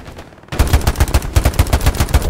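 Rapid automatic gunfire in the World War II shooter Hell Let Loose, a burst of evenly spaced loud shots starting after a brief quiet moment and continuing steadily to the end.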